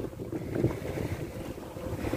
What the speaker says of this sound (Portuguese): A jangadinha ali é motor.